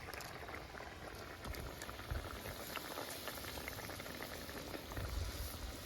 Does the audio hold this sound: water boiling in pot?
yes